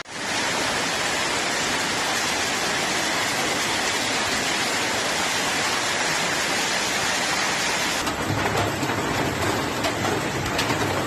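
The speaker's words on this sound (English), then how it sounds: "hailstorm hit several areas in Turkey April 21" Hail pounding down during a hailstorm in Istanbul, Turkey: a steady, loud, dense roar of impacts with no let-up, shifting slightly in tone near the end.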